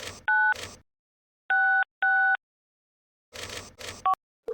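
Touch-tone keypad beeps as a phone number is dialed on an in-game phone in the video game Saints Row, several short crisp tones spaced apart, separated by brief bursts of other game noise.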